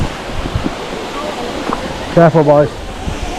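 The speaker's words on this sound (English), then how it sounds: "Look, the waterfall there." A waterfall on the Ingleton waterfalls trail rushes as a constant broad roar, with wind buffeting the microphone and people talking nearby over it.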